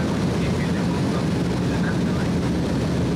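A small sightseeing airplane flying over the Nazca Lines in Peru fills the cabin with a loud, constant engine drone and rumble throughout.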